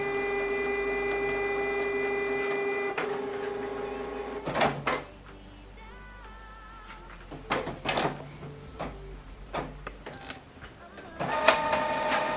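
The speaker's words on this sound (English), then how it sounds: "this document now is going to print" A Canon Pixma inkjet printer whirs and hums, then clacks and shuttles through a page with mechanical thumps, rattles and motor whines, close up.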